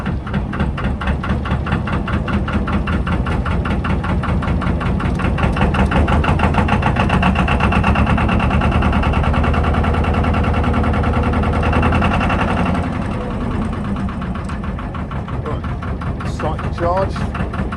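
A narrowboat engine idles steadily to charge the batteries, a loud, even mechanical chug with a rhythmic pulse running without a break, while a person talks over it.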